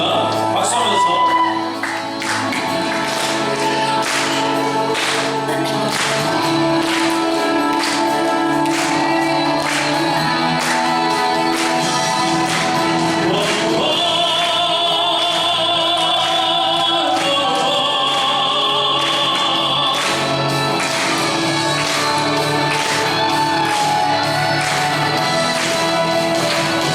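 Easter Sunday worship in a Prague church, with the congregation clapping steadily along as they sing praise songs over loud amplified music, the clapping blending into the dense continuous band sound throughout.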